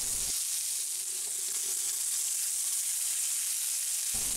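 Homemade sausage patties fry in a pan with a steady, bright sizzle that holds evenly throughout, close and fairly loud with no talking.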